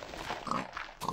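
Minecraft pig oinking, a couple of short grunting snorts close up within about a second, with no speech.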